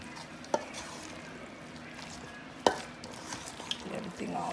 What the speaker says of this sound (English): Get that mayonnaise in there. I'm gonna mix this.